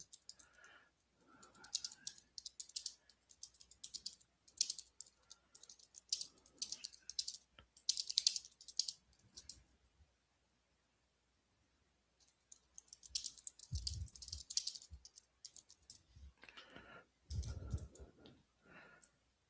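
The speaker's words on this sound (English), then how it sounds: "let me go ahead and type this in the Discord as well." Someone types on a computer keyboard in rapid irregular bursts of clicking keystrokes, close and fairly clear, with brief pauses and occasional low thumps between runs.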